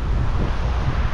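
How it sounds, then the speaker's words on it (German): Strong wind gusts at the seashore buffet the microphone in a loud, continuous low roar, with surf rumbling beneath and no voices. "ja, es ist echt windig"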